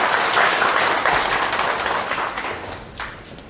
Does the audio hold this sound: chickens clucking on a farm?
no